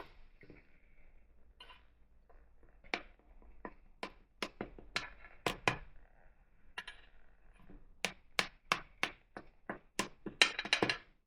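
Knife cutting into a pan of keto brownies, producing a series of sharp metallic taps and scrapes against the pan, irregular and close, growing busier toward the end.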